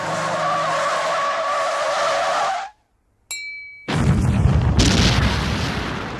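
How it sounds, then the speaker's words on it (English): A car skids loudly and cuts to silence, then a harsh high tone sounds briefly before a big roaring burst as a Ford car blows up in a fiery explosion in an animated movie scene. "she'll blow up Val and Mel in a fiery car explosion"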